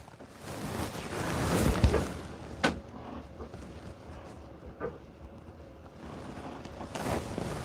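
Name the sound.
wind on a boat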